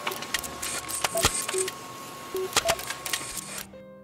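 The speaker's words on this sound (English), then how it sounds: "Printing now." A printer prints out pages with a steady whirring feed, punctuated by sharp clicks and mechanical clunks, then winds down to a quiet motor hum at the end.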